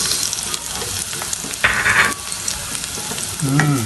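Garlic and onion sauté in a pan for kare-kare, giving a steady close-up sizzle with a few scraping stirs and a brief louder clatter near the end.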